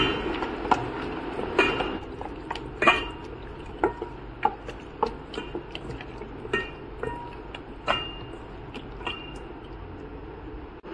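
Chicken being mixed by hand with vinegar and ready-made ginger garlic paste in a bowl, giving scattered light clinks, taps and soft scrapes of dishes at close range over a quiet background.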